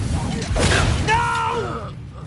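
The Expelliarmus spell is cast in Hogwarts Legacy on PS5: a short whooshing burst with a low thud, followed by bright, ringing, bending magical tones that fade within about two seconds.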